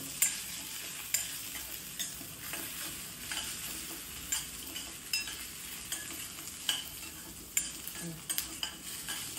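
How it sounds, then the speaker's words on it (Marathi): Garlic, green chili and ginger roast in a pan, a soft continuous sizzle broken by frequent scraping stirs at a loose, uneven rhythm, close and fairly quiet, with no talking. "लसूण, मिरची आणि अद्रक चांगल्या प्रमाणामध्ये भाजलं गेलेलं आहे"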